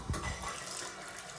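Water runs from the tap of a newly installed sink in a freshly renovated kitchen, a steady, faint rushing stream with no one talking.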